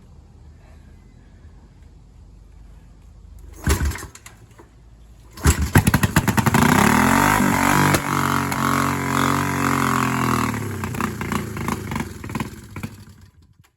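A 1973 Honda CB350 motorcycle engine catches after a couple of brief cranking bursts, then runs loud and close with a rough, uneven idle that gradually fades toward the end.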